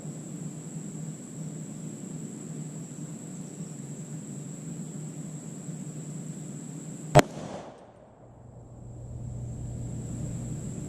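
A single subsonic 300 Blackout shot with a 220-grain ELD-X load, one sharp close crack cutting through steady background hiss, followed by a brief dip in the noise before the hum returns.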